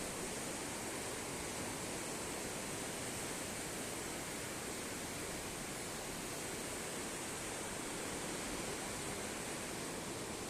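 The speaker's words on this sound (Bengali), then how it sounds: "দেখতেই পাচ্ছ নিচে কত জলের স্পিড, প্রচণ্ড জল।" Fast, heavy water rushing below a high vantage point, a dense, constant roar with no breaks, steady and evenly loud throughout.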